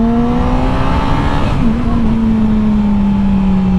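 A 2019 Yamaha R6 motorcycle being ridden, its engine holding a steady, fairly loud drone with a smooth slight pitch shift partway through, under constant wind rush.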